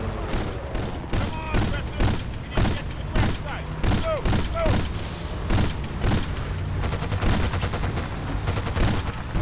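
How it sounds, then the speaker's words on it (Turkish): Explosions and bursts of gunfire from the video game Battlefield Bad Company 2, with houses blowing up; loud, dense repeated blasts and shots fill the whole stretch with little pause. "Bu arada çok fazla patlama şeyi koymuşlar."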